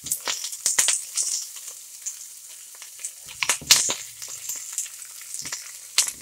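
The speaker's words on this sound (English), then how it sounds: "So I'm going to keep sauteing these pierogies" Pierogies sautéing in a hot pan, crackling bursts of sizzle with sharp spatters and occasional scraping of a utensil, close by, with stretches of quieter frying in between.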